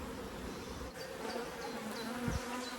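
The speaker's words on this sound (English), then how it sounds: "I think these bees are here to stay, you know." Honey bees in a nucleus hive with open brood give off a steady, close insect buzz, a continuous hum with no talk heard.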